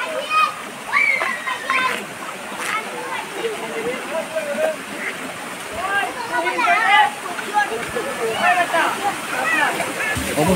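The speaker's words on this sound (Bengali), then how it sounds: "অবশেষে আমরা চলে আসলাম ঝর্ণা।" Water splashes and rushes at the Shilbunia hill waterfall, a constant close wash under lively, overlapping voices of people, including children, chattering throughout.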